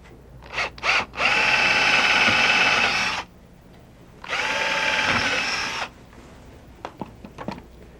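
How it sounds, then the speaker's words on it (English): A power drill drives screws into a boat's rub rail, giving two loud sustained whirring runs of a few seconds each, with brief clicks and handling knocks before, between and after. "I'm going to put the rub rail up to it, and we'll set the screws in."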